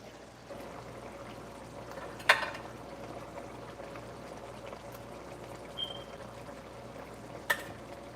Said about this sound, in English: can you add the shrimp to it?